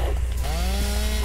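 A chainsaw revs in the Dead Island: Riptide video game during a boss fight, a loud droning engine whine rising in pitch over a short burst.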